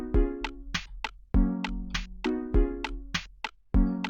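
Minecraft redstone note blocks cycle a simple looping tune, plucked tones alternating with sharp percussive clicks in a steady, repeating rhythm, close and clean without any voices.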